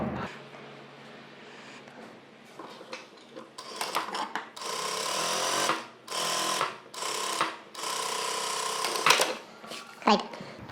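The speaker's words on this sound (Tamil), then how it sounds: "பதினாலு இன்ச்சுக்குரியதை தைக்க போகிறேன் உள்ளே வந்து கொஞ்சம் லைனிங் கிளாத் கொடுத்துக்கலாம்" A sewing machine stitches lining cloth into a blouse in short, uneven bursts that start a few seconds in, with a voice talking over the stitching.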